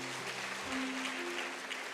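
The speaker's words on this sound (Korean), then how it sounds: "격려의 박수 보내주시고요" A church congregation gives encouraging applause during a Sunday afternoon service, a faint, distant wash of clapping with a low sustained tone underneath, brief.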